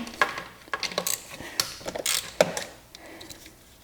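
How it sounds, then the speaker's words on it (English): Ratchet fitted with an extension works on the captive intake pipe bolts of a Mazda RX-7 FD, giving quick irregular clicking bursts and metallic ticks, close and moderately loud, with no talking. "we're now going to remove 4 captive bolt heads to the intake pipe here"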